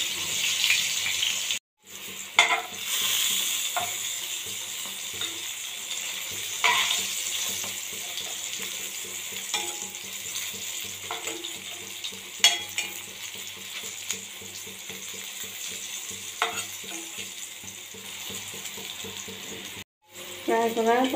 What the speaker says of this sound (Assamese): এয়া মই এতিয়া ফ্ৰাই হ'বলৈ দিম। ৰঙা কৰি মই ভাজি ল'ম।